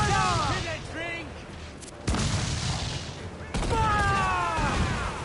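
Naval cannon broadsides in Assassin's Creed Black Flag, two heavy booming blasts that cut in sharply and linger, mixed with shouted crew voices and sea-battle din.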